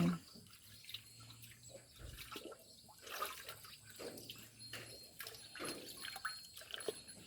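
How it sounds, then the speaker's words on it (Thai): Fresh vegetables being rinsed and washed by hand in water outdoors in the countryside in the morning, with soft splashing, trickling and dripping sounds coming in irregular bursts, close by and fairly quiet. "ผักสดๆเลยแม่เจนล้าง"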